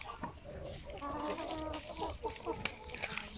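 Speckled Sussex and porcelain Leghorn hens cluck in a steady, busy chatter close by in a coop, with other farmyard birds and faint background noise mixed in.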